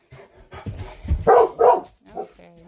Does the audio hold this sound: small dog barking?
yes